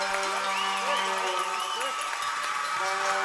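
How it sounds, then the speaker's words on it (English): A loud hockey crowd roars and cheers continuously in a large arena after a power play goal, with whistles and excited shouts rising over the din. "the fans are going crazy here to our left"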